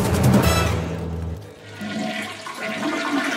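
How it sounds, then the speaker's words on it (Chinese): A toilet flushes with a loud gush of water that drains away and then refills in a gurgling rush, close up and with no talk. "先用黑色塑料袋包住马桶，然后冲水"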